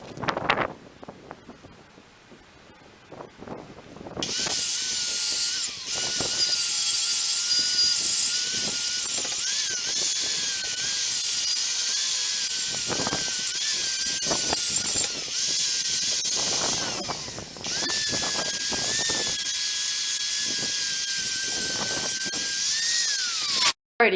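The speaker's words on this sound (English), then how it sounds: "we're going to grab the grinder and start grinding." Angle grinder cutting into metal during a vehicle rebuild, a sustained high-pitched whine that starts after a few quiet seconds and runs loud and steady with brief dips, no voices.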